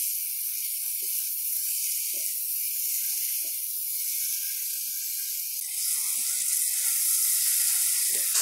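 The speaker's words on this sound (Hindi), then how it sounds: "पोटैटो डालने के बाद हम 3 से 4 मिनट भून लेंगे।" Potatoes frying in a pan give a continuous bright hiss and sizzle, steady and close, with faint occasional knocks beneath and a slight swell toward the end.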